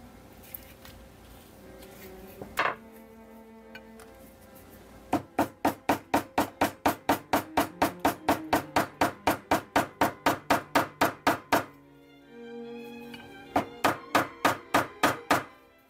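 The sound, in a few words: hammering on Colt 1911 pistol parts during assembly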